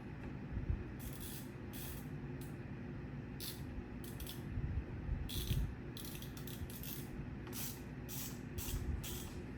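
Ratchet wrench torquing down bolts while swapping handlebars, quiet rapid clicking bursts that come and go irregularly over a low background hum.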